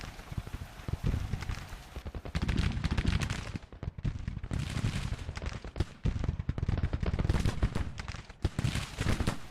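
Musket volleys crackle across a Civil War battlefield in Grand Tactician, dense irregular bursts of many shots rolling together, loud and sustained with brief lulls.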